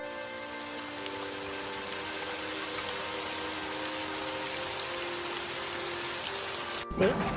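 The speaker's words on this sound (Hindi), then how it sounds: "देखते भयंकर बारिश शुरू हो गई।" Dense, steady downpour of heavy rain drumming on surfaces, constant and enveloping, with a faint hum underneath and a brief thump at the end.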